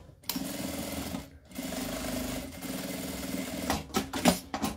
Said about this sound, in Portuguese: E aqui eu vou passar uma costurinha na beiradinha para segurar.